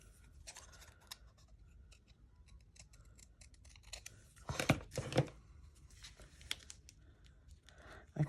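Paper being cut with scissors while making a junk journal, indoors: quiet, scattered snips that build into a short cluster of sharper, closer cuts near the middle, with light rustling around them.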